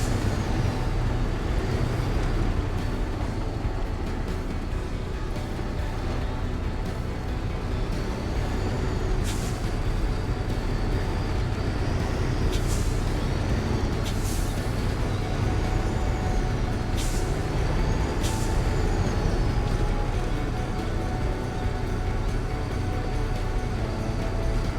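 Steady truck engine drone in the video game Expeditions, the vehicle pushing through rocks and snow, a continuous loud rumble with occasional hissing and clanks throughout.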